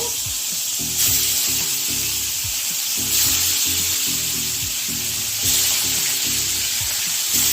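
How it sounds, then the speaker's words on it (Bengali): Katla fish frying in hot oil in a pan, a loud steady sizzle and crackle with periodic surges of spattering; no talk. "গরম হয়ে গেছে, এই যে মাছগুলো ভেজে নেব।"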